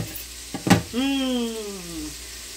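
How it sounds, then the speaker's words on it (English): Bacon sizzles steadily in a pan, with a couple of sharp clatters near the start followed by a bright, even crackle. "I hope you can hear the sizzling bacon."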